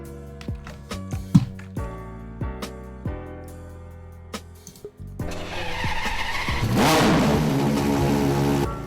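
Ferrari FXX Evolution engine startup in the Driving Empire video game: a series of sharp starter clicks and cranking bursts, then the engine catches into a loud sustained roar that swells as it revs.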